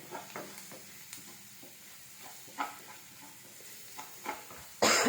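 Curry leaf paste stirred into hot oil for curry leaf rice, a soft continuous sizzle with a few scraping stirs, ending in a sudden loud burst of hissing.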